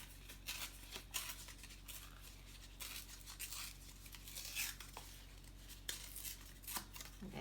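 Scissors snip around a paper image cut from a book, giving a run of quiet, close, crisp cuts and rustles in an irregular rhythm.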